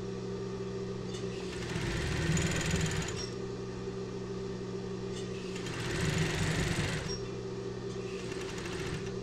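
A domestic sewing machine stitching the waistband of boxer briefs, running with a steady mechanical whir and two louder bursts of faster stitching separated by a slower, quieter stretch.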